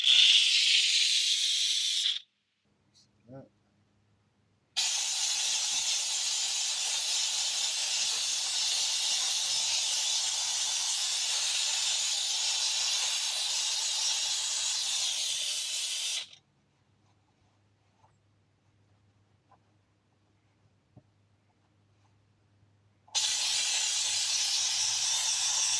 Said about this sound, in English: this thing's just like hot steam that comes out of it